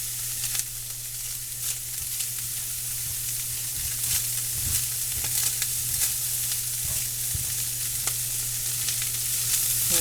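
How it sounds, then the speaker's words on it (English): Ham and egg wraps frying in a pan give a steady, loud sizzle for the whole stretch, with small pops and crackles over a constant low hum, and no talking. "Okay, we got a sizzle, sizzle, fry, fry going on here."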